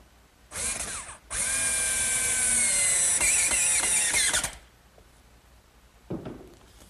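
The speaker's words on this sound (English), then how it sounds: "This little guide allows me to make perfect blind screw pockets every time." Drill boring blind screw pockets through a pocket-hole guide for a bookcase: a short whir, then a loud sustained whine that spins down, followed later by one brief faint blip.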